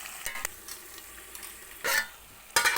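Fish curry with ginger garlic paste frying in a pan, stirred in a few brief scraping bursts over a low, steady sizzle.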